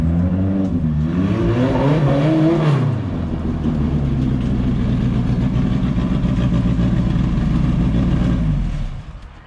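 A car engine with a replacement motor revs up to high RPM in a rising climb, holds a loud sustained roar near by, then cuts off at the end.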